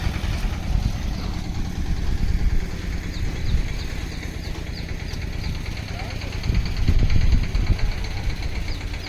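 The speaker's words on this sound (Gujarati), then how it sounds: "નાનજીભાઈ મારે ટ્રેક્ટરને રિવેસ ને એને થોડુંક ઓછું રિવેસ ફાવે છે" A tractor hauling a borewell drilling machine reverses slowly, its engine rumbling steadily and loudly at close range, with a brief surge in power near the end.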